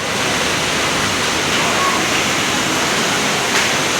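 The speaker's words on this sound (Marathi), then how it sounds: "आणि पाऊस आहे मस्त हा बघा" Heavy monsoon rain over a building terrace in Vasai, a dense, loud, steady roar of downpour filling the whole stretch without pause.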